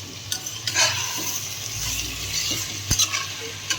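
Prawn rice sizzles in a hot pan while a utensil stirs and scrapes it, with a few sharper clinks against the pan.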